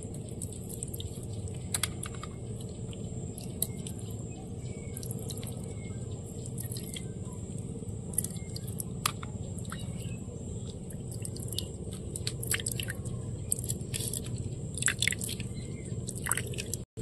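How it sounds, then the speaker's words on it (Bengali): Ground ripe jackfruit pulp is squeezed by hand to press out its juice, giving continuous wet squelching with many small crackly drips and clicks over a low hum, close and fairly quiet, no speech. "আমি এদিকে কাঁঠালের রসটা ভালো করে বার করে নেব।"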